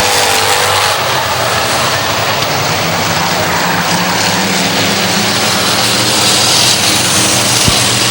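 Race cars roaring around the oval at Hudson Speedway in New Hampshire near the end of a race, a loud continuous engine drone that swells and fades as the field passes, with no voices.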